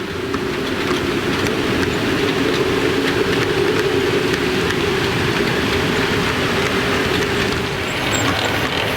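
A model locomotive fitted with a Hornby sound chip gives a steady mechanical rumble and hiss without pause, a continuous droning engine sound with rhythmic rail-like texture throughout.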